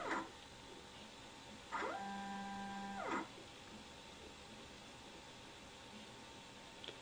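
Automated contact angle measuring instrument in a lab, its sample stage and dosing needles moving on their own: a steady motorised whir lasting about a second and a half over a constant hiss, with a brief click at the start.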